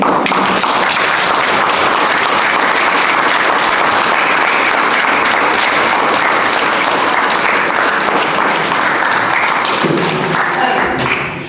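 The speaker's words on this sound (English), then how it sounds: "Can I request that the board give Brenda a good round of applause, please" Council board members give a long, steady round of applause in a meeting room, dense clapping holding for about eleven seconds before fading.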